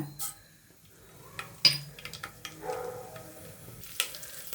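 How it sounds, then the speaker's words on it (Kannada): Mustard seeds dropped into hot oil in a kitchen pan for sambar tempering give faint, scattered pops and crackles, mixed with a sharp clink of utensils and light stirring scrapes. "ಆಯಿಲ್ ಕಾತಿದೆ ಸಾಸಿವೆ ಹಾಕೋಣ"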